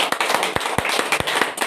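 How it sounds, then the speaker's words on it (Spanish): A church congregation claps in praise during a community service, a brief burst of sharp, fairly loud claps in an uneven rhythm, with no talking over it. "Un aplauso al Señor."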